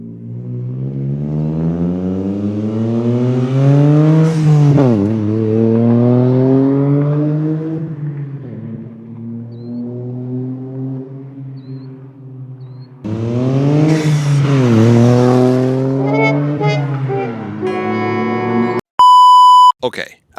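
Toyota GR Corolla with an SXTH Element single exit exhaust accelerating past, engine tone climbing through the gears with a shift in between, loud and close, then a brief electronic beep at the end.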